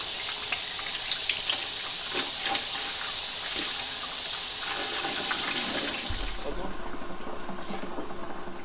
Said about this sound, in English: And now we should be getting some water from the pressure washer line.